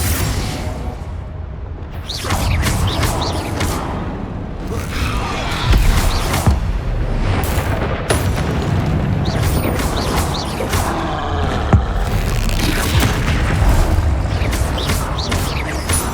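Bombarda and Confringo spell blasts in the Hogwarts Legacy video game, a dense run of booming impacts and crashing bursts, loud and close, layered over a continuous rumble with no talk.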